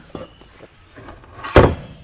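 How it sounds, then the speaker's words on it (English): A newly painted door to a home recording studio, closed from outside, shuts with a single solid thud after some soft shuffling and handling noises. "that's one door closed"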